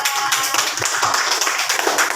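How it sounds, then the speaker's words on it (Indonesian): Pupils in a classroom clap together for a student team, steady, brisk group applause filling the room without pause. "tepuk tangan untuk kelompoknya Mas Alsa."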